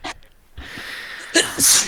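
A person sneezes sharply, a short intake followed by a loud burst of breath, close to the microphone, with a brief quieter sound before it.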